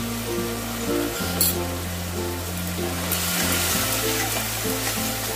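Ground coriander, cumin and Kashmiri chilli powder fry steadily in a pan for a Bengali aar fish curry, a close, continuous sizzle with soft stirring scrapes running throughout.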